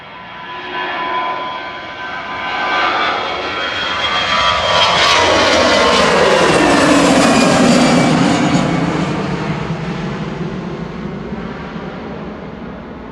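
A Qatar Airways jet passes over Manchester Airport, its engine roar swelling from a distant rumble to a loud, broad whoosh with a falling tone at its nearest point, then easing off slowly as it moves away.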